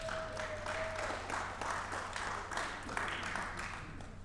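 An audience at a library lecture claps together in a steady, continuous round of applause that fills the room, with a faint brief tone near the start.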